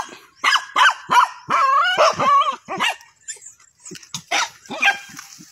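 A dog searching for a snake barks and yips repeatedly in quick, excited bursts, fairly close, with short pauses between volleys.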